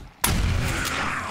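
A single shotgun blast fired in the 7 Days to Die game hits sharply and loud after a brief quiet, then a dense, rumbling tail sustains through the rest of the moment.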